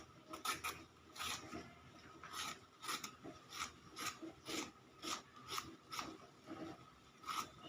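Peeled ridge gourd is rubbed against a kitchen grater in a steady rhythm of rasping strokes, about two per second, close and fairly quiet with no talk.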